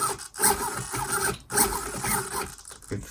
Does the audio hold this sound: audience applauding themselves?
no